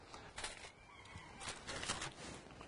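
A chicken clucks and squawks in short, uneven bursts in a backyard. The sound is faint and slightly distant over low ambient noise, and no one speaks.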